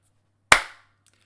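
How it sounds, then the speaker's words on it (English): A single sharp hand clap, close and loud, with a quick decaying tail, standing alone in an otherwise quiet room. "I'll start with the clap again."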